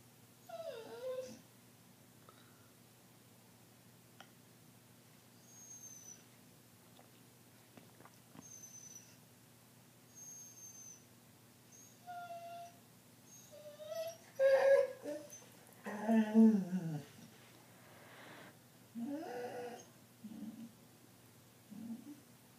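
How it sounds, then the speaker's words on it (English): A dog makes screechy, chatty whimpers and yips, with quiet pauses between short bursts that get louder and more insistent partway through over a faint background hum. "That screechy noise."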